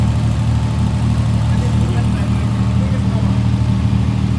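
A 1938 Jaguar SS Drophead 3½-litre car engine idles steadily up close, a dense continuous low rumble with even throb and no revving throughout.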